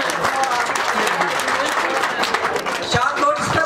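Steady applause from a crowd at an environmental awareness programme held at a school, dense clapping that keeps going throughout with a faint murmur of voices underneath.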